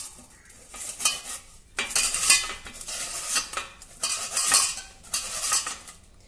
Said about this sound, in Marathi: इथे ह्या प्रकारच्या जाड छिद्राच्या किसणीवर आता आपल्याला बटाटा किसून घ्यायचा आहे